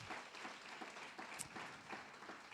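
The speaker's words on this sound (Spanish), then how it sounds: "Dale ese fuerte aplauso a Rey de Reyes" Church congregation clapping in applause, a moderately faint, uneven patter of many hands with small swells throughout.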